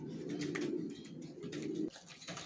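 Racing pigeons in a loft give close, repeated low cooing, one rolling call after another with a short pause between them.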